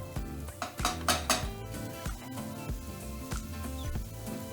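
Finely chopped red onion stirred in olive oil in a frying pan over medium heat, a run of close metallic scrapes and clinks from utensil on pan in an uneven rhythm, with faint sizzling and no speech.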